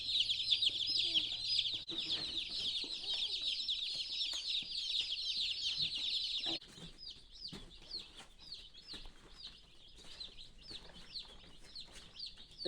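Cornish cross broiler chickens cluck and chirp steadily as a dense, busy flock, with a continuous high chatter that eases into scattered peeps and clucks, close and moderately loud.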